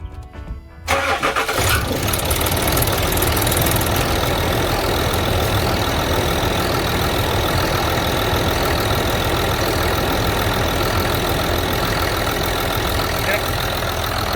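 A Land Rover Discovery 3 2.7 TD diesel with a leaking injector leak-off line cranks and fires about a second in, then settles into a steady, loud, close diesel idle that runs unbroken to the end.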